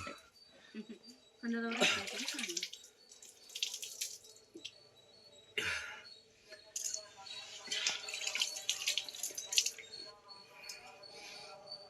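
Water flowing from the rock into the sacred temple pond at Umamaheswaram near Srisailam, a light trickling flow heard close by, with people talking over it in bursts.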